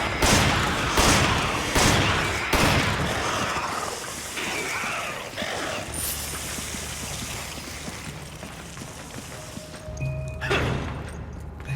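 A handgun fires in the video game Resident Evil 5: several sharp, loud shots crack in quick succession over the first few seconds, then quieter game ambience and scattered effects follow.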